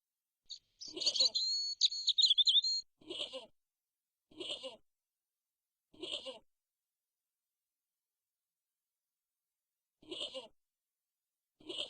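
A goat in Broken Sword: Shadow of the Templars bleats six times in short separate calls, spaced irregularly over near silence, with a burst of bird chirping at the start.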